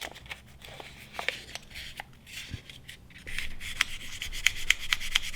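Scraping rubs of 600 grit sandpaper wrapped around a rod, worked up and down inside a rifle part; soft, irregular close strokes growing denser and louder toward the end, no talk.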